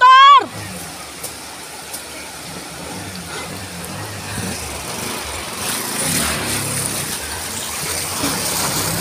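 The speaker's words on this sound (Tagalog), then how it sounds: "kusog na kayong tubig" Strong floodwater rushes steadily during Typhoon Paeng in Zamboanga City, a broad continuous roar that fills the scene after a brief sharp tone at the start, growing slightly louder toward the end.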